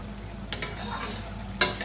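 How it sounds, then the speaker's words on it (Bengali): Pieces of katla fish hitting a hot pan and frying, a close, loud sizzling hiss with sharp spatter bursts as the fish goes in and again near the end. "এর মধ্যে এবার আমি মাছগুলো ঢেলে দেবো।"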